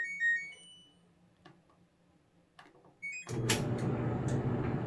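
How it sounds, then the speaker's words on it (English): An LG dryer starts up after a few quiet seconds with faint clicks, then its rotating drum settles into a loud, steady broadband rumble and whir that carries on to the end. "Turn the dryer on."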